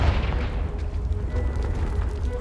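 The Confringo blasting spell explodes in the video game Hogwarts Legacy, a deep, rumbling boom that swells and lingers with debris-like crackle, loud and close throughout.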